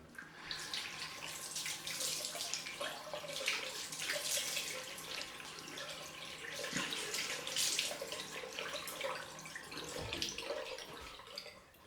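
A razor rinsed under a running bathroom tap, a steady close hiss of flowing water with splashes and small clinks throughout, no talking.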